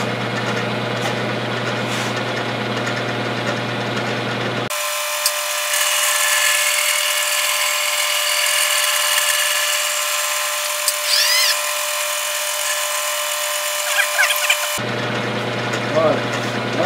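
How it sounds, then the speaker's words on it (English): A gear-cutting machine runs with a steady whining hum, loud and constant throughout, with a different broadband noise at the start and end. "All right, let's cut a gear."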